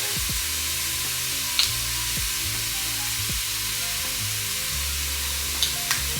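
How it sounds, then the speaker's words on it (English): Bell peppers, onion and minced garlic sauté together in a pan, a steady close sizzle with a couple of sharp clinks from a utensil, no talking. "we're gonna saute all this together, and I'm gonna throw some minced garlic in."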